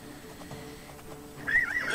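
A horse in the video game Oblivion gives a short whinny that rises near the end, coming after a stretch of quieter game ambience.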